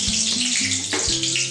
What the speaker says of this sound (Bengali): তেল গরম হয়ে গেছে, এবার আমি শুকনো লঙ্কা তেজপাতা ফোড়ন দিচ্ছি